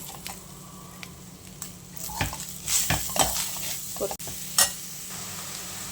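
Grated coconut and jaggery cook in ghee in a pan as modak filling, with a quiet sizzle under intermittent scrapes and taps of a stirring spoon.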